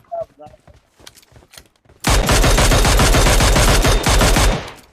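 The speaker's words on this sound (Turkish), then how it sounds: "Lan bir mermi sıkar sen Redkit ya" Dense automatic gunfire from the mobile battle royale game PUBG Mobile, a loud, rapid burst of shots that starts abruptly after a stretch of quieter game sounds and talk and runs steadily for about two and a half seconds before cutting off.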